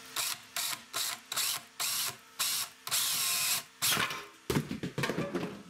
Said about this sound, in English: And let's go ahead and start drilling.